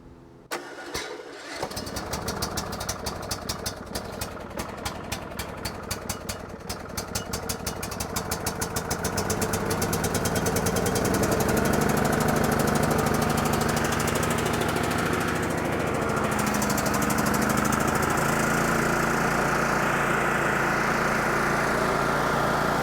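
A Toro LX420 lawn tractor engine cranks with a rapid rhythmic starter chatter for several seconds, catches, then settles into a loud, steady, close-up idle that runs alone to the end.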